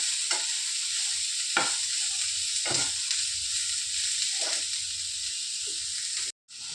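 Chopped onions frying in hot oil give a steady, even sizzle close by, broken by a few sharp stirring strokes and a brief drop near the end.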